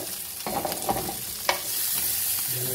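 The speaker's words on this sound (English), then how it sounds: "Then we'll cook a bit of the garlic." Garlic fries in a pan still coated from grilled pork belly for a Filipino-style pork belly steak: a steady close sizzle with clinks and scrapes of stirring and one sharp knock midway, no voices.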